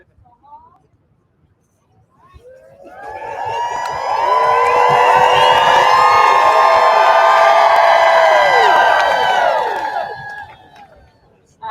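A large audience at a back-to-school kickoff event erupts in loud, sustained cheering, shouting and whooping that swells over several seconds, holds steady, then fades out.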